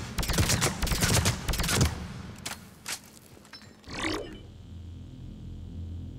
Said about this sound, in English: I suppose we can see how it performs in bursts.